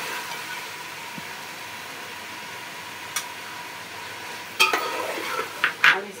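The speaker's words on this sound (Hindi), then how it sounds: "इसको 5 मिनट तक इसमें हम भूनेंगे।" Chicken biryani masala with ginger and yogurt frying in a pot, a soft steady sizzle with a low hum, then louder scraping stir strokes near the end, close and without talk.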